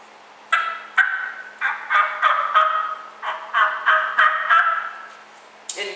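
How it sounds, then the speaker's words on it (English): A wild turkey tom gobbles repeatedly in the open, a series of loud, rattling bursts in quick succession that rise and fade over several seconds, with no talking. "I'm going to wait for him to gobble again."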